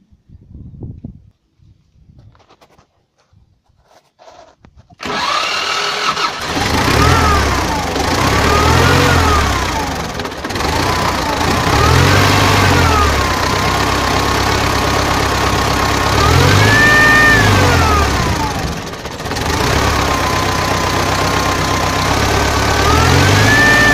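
A worn T-40 tractor engine that burns oil cranks briefly after some quiet handling noises, then starts and runs loudly up close, chugging with a rough, knocking rhythm and repeated revs rising and falling.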